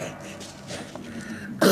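A single short, harsh cough bursts out at the very end after a moment of quiet room noise.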